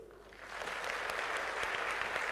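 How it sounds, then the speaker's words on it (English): A crowd claps steadily, a dense wash of applause that swells slightly at the start and continues without letting up. "So big clap to the panelists."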